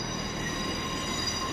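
A London Northwestern Railway train at Birmingham's city-centre station gives a steady, close rumble of rolling stock and wheel noise, continuous throughout with faint squealing.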